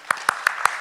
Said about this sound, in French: Donc on peut vous applaudir.